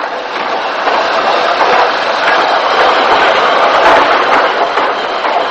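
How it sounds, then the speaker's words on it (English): Steam train shunted at a railway junction, a loud continuous rumble of rolling wagons with faint rhythmic wheel clatter, close and steady throughout. "we see the train being shunted before a southbound express roared through"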